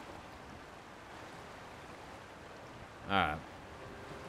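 Steady rushing water from waves pushing a boat in Zelda: Tears of the Kingdom, a constant wash of surf-like noise throughout, with a brief spoken word near the end.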